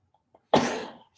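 A single sharp sneeze, close and sudden, bursting out of near silence and trailing off within half a second.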